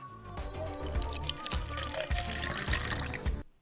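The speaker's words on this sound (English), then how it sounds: "Let's pour it into the measuring cup and see how much it absorbed." Water being poured from a soaked diaper into a measuring cup, a steady splashing pour that runs for a few seconds and then stops abruptly.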